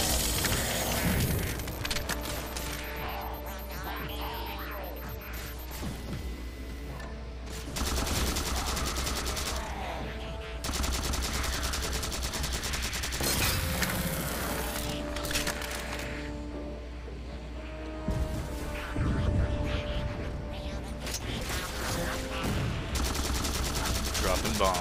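Rapid bursts of automatic gunfire and booms from a gun in the Halo 4 campaign, repeating in several loud clusters with brief pauses between them.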